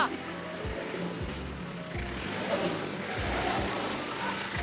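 A Mitsubishi Fuso school bus engine revs steadily at close range, a rough low diesel drone that rises and falls in pulses, with someone talking over it.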